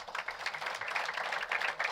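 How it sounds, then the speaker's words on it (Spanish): A church congregation applauding during a Spanish-language service: a brief, steady patter of many hands clapping at moderate volume, heard alone. "Ahora sí, dale un aplauso."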